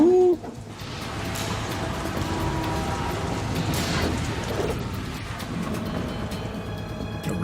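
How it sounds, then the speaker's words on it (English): Steady rain pours down in Metal Gear Solid 2, a dense hiss that persists throughout, with a brief hooting tone at the start. "The rain."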